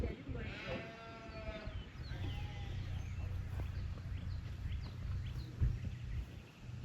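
Sheep bleat a few times at a distance over a low rumbling background, with faint outdoor noise and no clear talk.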